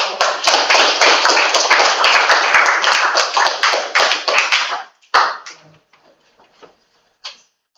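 A crowd claps together in a dense burst of applause for about five seconds, then it thins to a few scattered claps.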